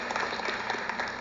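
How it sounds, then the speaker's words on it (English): A short burst of applause, many hands clapping together at moderate distance, fairly faint and steady for about a second. "Clapping."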